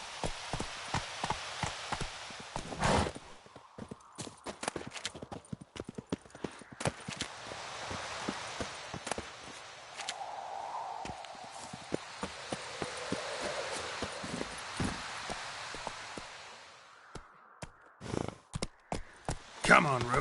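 Roach, a horse in the video game Witcher 3, gallops with repeated hoof clip-clops over a steady, rain-like backdrop, while a voice talks intermittently.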